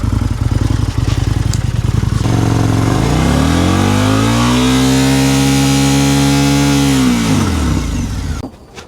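Indian Scout 101 motorcycle with an SNS exhaust system revving hard, its engine pitch sweeping up, holding high and dropping back, loud and close with no talk.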